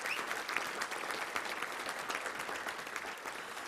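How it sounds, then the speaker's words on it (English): A luncheon audience at the Little Rock Touchdown Club applauds its sponsors, a dense, even round of clapping that fills the room without letting up, with no voices over it. "Let's give them all a round of applause, please."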